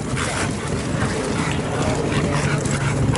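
A small yappy dog barks and yips at an outdoor motorcycle meet, its sharp calls partly buried in loud, steady crowd and wind noise.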